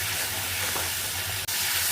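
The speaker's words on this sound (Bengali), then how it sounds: "মশলার মধ্যে 1 চামচ টক দই দিয়ে দিচ্ছি, আবারও ভালো করে কষিয়ে নেব।" Spice paste with a spoonful of sour yogurt sautéing in hot oil, a continuous soft sizzle and hiss with a brief scrape partway through.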